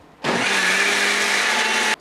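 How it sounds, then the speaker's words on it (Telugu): A kitchen mixer grinder whirs steadily as it grinds peanut and roasted gram chutney with water, starting abruptly and running loud and close for nearly two seconds with no talk. "ఇప్పుడు మనం మిక్సీ పట్టేద్దాం"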